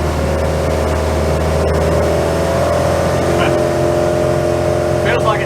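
A 34ft Hartley timber boat's engine drones steadily at 3000 rpm, loud and constant, with wind and faint voices underneath.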